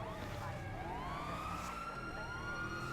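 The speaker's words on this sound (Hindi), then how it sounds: "तो भाई सायरन की आवाज़ आ चुकी है इन्हें" A police siren in the GTA V video game wails in rising and falling sweeps at moderate distance over a steady background rumble of traffic.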